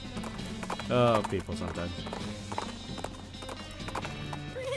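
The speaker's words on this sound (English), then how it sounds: "these are cart horses" Cart horses in the Western video game West of Loathing clip-clop with quick hoof beats and let out a short whinny, while someone talks over the sound.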